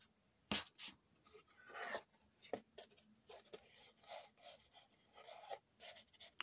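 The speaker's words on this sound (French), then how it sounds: "je pose mon scotch." Quiet rasping and rubbing with sharp tearing snaps, like tape being pulled off a roll and pressed down with brushing strokes.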